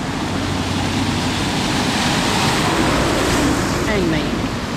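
A car fords Isabella Falls creek crossing on the Endeavour Battle Camp Road near Cooktown, with steady broadband water rush and splashing close by throughout, no breaks.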